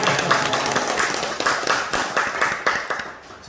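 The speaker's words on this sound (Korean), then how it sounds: "박수 한번." Applause from a church congregation, a steady patter of many hands clapping with a few sharper claps standing out, fairly close and continuing for several seconds before thinning out at the end.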